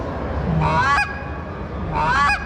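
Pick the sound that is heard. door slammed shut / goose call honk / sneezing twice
goose call honk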